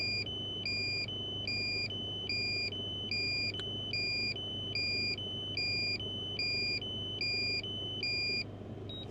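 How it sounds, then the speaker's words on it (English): A drone's critical low-battery warning repeats as a steady, regular two-tone electronic beep during a flight over a volcanic eruption in Iceland, sounding over a constant low hum of wind and motors. "That is when the critical battery beep starts."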